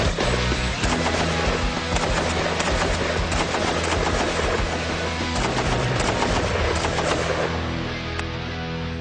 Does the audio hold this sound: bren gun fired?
yes